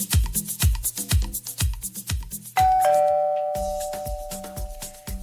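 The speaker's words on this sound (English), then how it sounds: "I wonder who had to just ring my bell at this time." A home doorbell rings at night: a chime tone rises and holds, then fades slowly over a loud, rhythmic backing beat.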